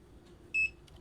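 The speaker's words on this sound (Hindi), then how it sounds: "ये जो बीप दिया है यानी कि ये अब ऑटो मोड से हट चुका है" An HTC CM-2016 digital AC/DC clamp meter gives one short, clear electronic beep, faint against a low background hum.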